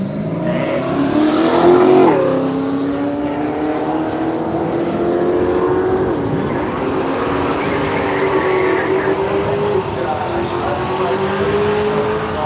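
At an Australian drag strip, a Holden Torana and a Ford Capri roar as engines rev and a car surges away in a loud, sustained pass with rising and falling engine tone, while an announcer talks over it.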